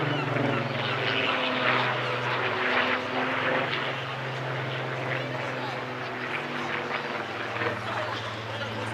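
Supermarine Spitfire Mark 19 flying an airshow display, a steady distant propeller engine drone throughout while a commentator talks over it.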